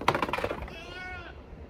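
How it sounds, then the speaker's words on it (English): Goats waiting to be fed on a farm let out a short wavering bleat, fairly close, after a brief burst of clatter. "But I got to feed the goats."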